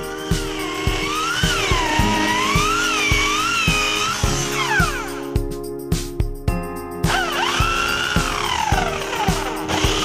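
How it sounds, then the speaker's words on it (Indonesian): A power drill whines continuously with its pitch wavering up and down, punctuated by regular clicks and knocks, running loud throughout, as it bores through a door to fit a door handle. "lakukan pengeboran tembus pada titik yang sudah ditandai"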